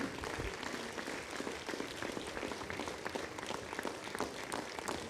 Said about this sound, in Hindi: उन सभी लोगों को जोरदार तालियों के साथ इनवाइट करूंगा।